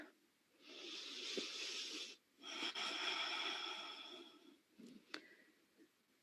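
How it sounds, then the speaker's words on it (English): Deep breathing during a yoga class: a long, slow airy inhale followed by a steady hissing exhale, close and quiet, with a soft sniff or click near the end. "Take a breath."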